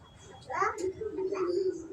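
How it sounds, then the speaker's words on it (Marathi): Birds perched in a tree by a house doorway give soft cooing calls, a short low phrase followed by a longer sustained coo, close and moderately loud, with a voice briefly audible alongside. "पक्ष्यांचा आवाज पण वेगळा आहे जरा कलर पण वेगळा आहे"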